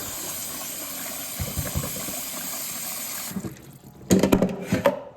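Water runs steadily into a container of corn grain for a few seconds, then stops, followed by a few splashy bumps and rattling handling noises.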